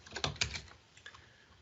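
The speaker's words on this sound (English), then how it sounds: "So if I will start to type in," Typing on a computer keyboard, a quick burst of several close, crisp key clicks that then thin out into a few scattered, fainter taps.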